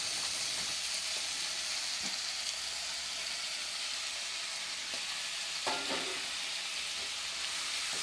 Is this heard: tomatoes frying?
yes